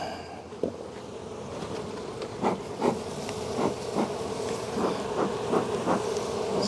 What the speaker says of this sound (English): right now I got lots of angry bees